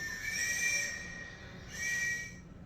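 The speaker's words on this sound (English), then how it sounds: "There is a whistle attached to the front oral inflation tube." A whistle on the front oral inflation tube of a life jacket gives two sustained, steady, shrill blasts, the second shorter than the first, loud and close, with no speech.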